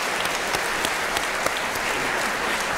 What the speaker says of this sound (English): that deserves a big round of applause for Kep and Debbie